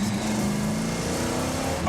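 An American muscle car engine revs with a loud, steady, throaty drone that holds for the whole short burst, close and alone.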